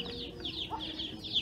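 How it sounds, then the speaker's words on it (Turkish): High, thin cheeping from chicks repeats continuously over a low murmur of farmyard background noise. "Civciv."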